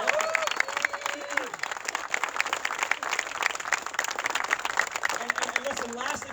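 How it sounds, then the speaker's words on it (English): Dense applause from a crowd greeting the sheriff at a Republican primary victory event in Virginia's Second District, sustained and fairly loud, with a voice speaking briefly over it near the start and again near the end. "Let's give the sheriff a round of applause."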